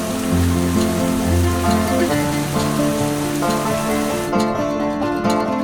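Rain falling as a cartoon sound effect: a loud, continuous hiss of drops on a surface that plays steadily throughout, with a cheerful music bed underneath.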